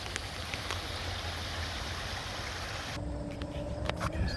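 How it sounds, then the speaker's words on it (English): A stream at an RV resort rushes steadily over several small drops, a continuous broad wash of water noise close by, with no voices. "nice stream with multiple drops. Has a nice sound to it."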